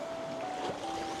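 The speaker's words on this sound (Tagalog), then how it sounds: "Malakas yung ano ng alon eh." Rough sea waves wash and slap around an island-hopping boat off Guimaras Island under a darkening sky, a steady broad rush of water and wind with a faint engine-like drone underneath.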